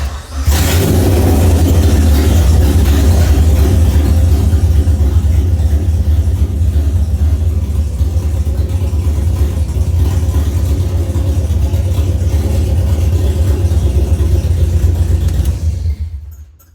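A Honda K24 car engine running on an LS ECU turns over and settles into a steady, loud idle with a deep rumble that runs on evenly, then cuts off abruptly.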